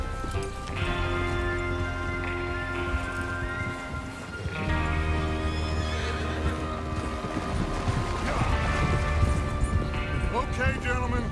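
Horses neigh and whinny several times over the steady clip-clop of hooves in Red Dead Redemption 2 video game, with a rich musical score swelling underneath.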